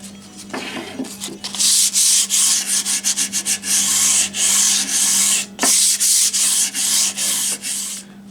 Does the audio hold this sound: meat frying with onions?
no